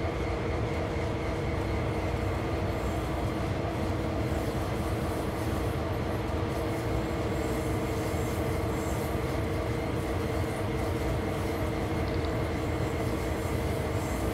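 A freight train on the Clinchfield line in Train Sim World 2 rolls steadily along an upgrade, giving a constant rumbling hum with rail and wheel noise and no break.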